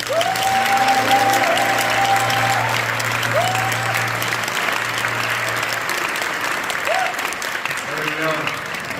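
An audience at a Korean church prayer gathering applauds to welcome a pastor to the stage, with sustained dense clapping that slowly tapers, while background music plays underneath.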